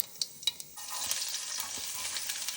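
Mustard seeds pop in hot oil, first a few sharp crackles, then a steady sizzle with quick pops scattered through it, close and moderately quiet.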